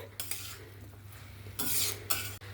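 A spoon stirring moong dal and ash gourd in a metal pot, a few quiet scraping strokes with brief louder bursts of clinking against the pot near the end.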